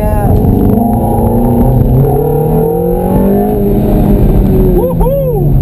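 A Ferrari engine at Candlestick Park revs hard and climbs through the gears as it accelerates on the track. The sound is loud and close and continues without a break, with rising whine after each shift.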